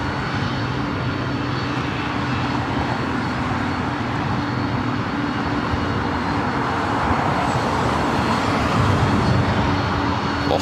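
A Boeing 767-300ER jet bound for Honolulu at LAX gives off a constant, loud, rumbling engine roar with a steady low hum running unbroken under it and no talking.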